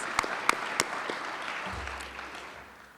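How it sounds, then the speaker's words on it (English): An audience at a Class of 2026 honors and scholarship ceremony breaks into applause for mentors, a dense burst of clapping that starts full and loud, then gradually thins and fades out over a few seconds. "So I say let's clap for all those mentors."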